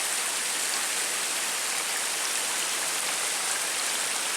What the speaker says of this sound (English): Neat little waterfall.